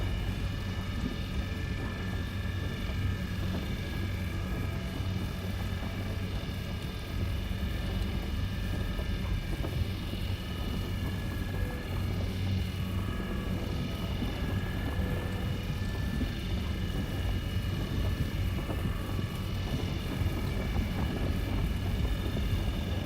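Steady wind gusting in the sci-fi game Star Citizen, a continuous broadband rush that stays loud and unbroken throughout with no talk over it.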